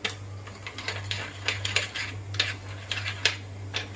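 Yeasted tortilla dough ingredients are stirred in a bowl with a utensil, making quick, close, irregular clinks and scrapes against the sides, heard alone with a steady low hum beneath.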